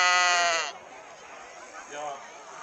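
An Estonian Whiteheaded sheep gives a loud, close, wavering bleat, followed after a pause by a second, fainter bleat.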